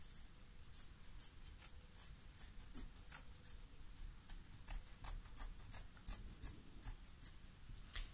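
Scissors snip repeatedly through the end of an empty Pringles cardboard can, a close series of quiet, crisp cuts in an uneven rhythm, with no talking.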